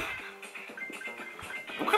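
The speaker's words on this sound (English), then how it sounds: "What dog is that anyway? Is that a pit" A dog in the endless-runner mobile game Subway Surfers, Madagascar edition, gives a few short yips and barks amid quick game sound effects and jingles, fairly close and clear.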